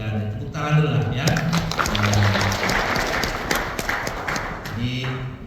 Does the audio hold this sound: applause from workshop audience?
yes